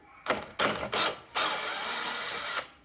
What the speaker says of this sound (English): And then I'm just going to take my drill